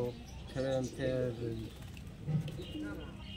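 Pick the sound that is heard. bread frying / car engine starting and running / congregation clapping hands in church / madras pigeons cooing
madras pigeons cooing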